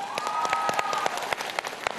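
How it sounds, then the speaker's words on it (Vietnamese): Studio audience applause on a Vietnamese television variety show, brisk scattered claps building into a steady patter for about two seconds with a sustained tone running beneath. "Cho một tràng pháo tay cho Khả Như."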